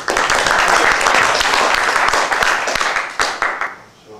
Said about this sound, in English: then please a big applause for Bas de Wisselink.